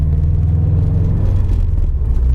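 A Subaru with a Gruppe S UEL header and Invidia N1 exhaust cruising at about 40 mph in sixth gear, giving a steady, low, smooth engine drone and road rumble with little exhaust noise.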